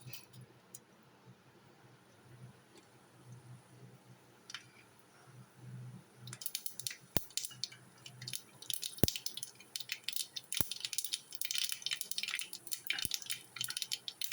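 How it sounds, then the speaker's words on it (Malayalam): Mustard seeds pop in hot coconut oil in a pan: after a quiet start, a dense crackle of small pops and spits builds and carries on steadily, with a few sharper clicks standing out. "കടുക് പൊട്ടി"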